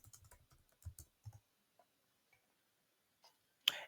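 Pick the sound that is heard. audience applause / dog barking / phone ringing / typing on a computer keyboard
typing on a computer keyboard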